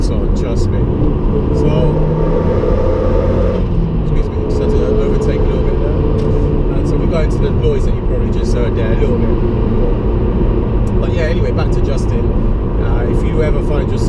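Mazda 3 MPS hatchback overtaking on the road, heard from inside as a loud, steady engine drone and road rumble with a brief change in tone partway through, while someone talks over it.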